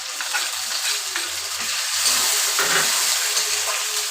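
Ground cumin, onion and garlic paste being sautéed with fried potatoes in hot oil for a fish curry, a steady loud sizzle with scraping stirs of a spatula, close up, with no voices.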